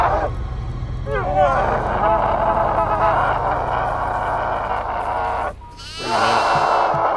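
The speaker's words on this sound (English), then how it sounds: "Hey, I found two billy goats." Two billy goats bleat in the horror game Devour, with a couple of wavering calls rising over a steady game drone while players talk throughout.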